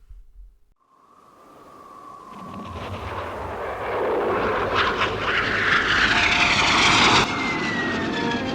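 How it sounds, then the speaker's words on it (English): Jet plane from a Japanese tokusatsu series on a flyby test: a thin engine whine rises out of near silence into a swelling, broad roar that builds over several seconds and holds loud and close to the end, with no voices. "Kai gets a rather unpleasant first viewing of the flyby test of the new plane"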